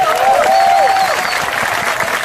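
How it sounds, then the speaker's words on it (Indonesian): Audience applause for Islamic boarding school students at a religious lecture gathering, a short burst of crowd clapping with a faint tonal squeal from the sound system over it. "Oke, tepuk tangan untuk santri."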